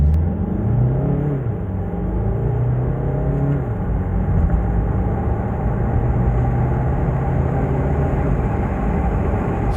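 A Ford Kuga 2.0 TDCi diesel SUV accelerates hard with a loud, steady engine drone. The pitch climbs, drops at a gear change, then rises again under a constant rush of road and wind noise.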